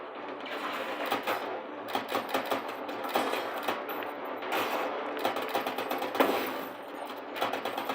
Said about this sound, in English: Automatic weapon. Use it.